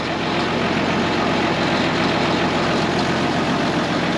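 A long-abandoned John Deere 4430 tractor idles steadily with a loud, continuous diesel rumble throughout, close by and without voices.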